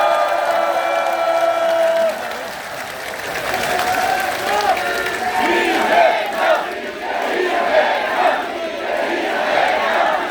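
A large crowd at an outdoor political rally applauds and cheers, a dense wash of clapping mixed with shouts and whoops that swells and ebbs over several seconds, loud and close, with voices calling out among the noise.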